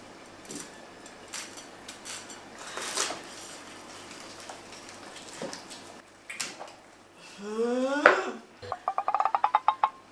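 A knife crunches through a whole chicken deep-fried in fish sauce in a few crackly cuts, close up, followed by sharp tapping and scraping on a plate.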